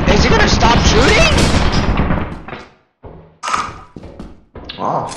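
A turret in the video game Lethal Company fires a fast, dense burst of loud, rattling shots that then breaks into short bursts and pauses, with excited players talking over it.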